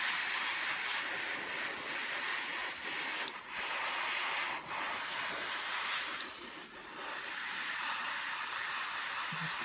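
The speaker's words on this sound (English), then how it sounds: "we're going to hit with the airbrush" An airbrush sprays paint across a Thestral model, making a continuous close hiss that dips briefly a couple of times before steadying, with no speech over it.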